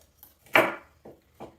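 A hand chopping tool comes down on vegetables in three quick strikes, the first loudest, with no talk.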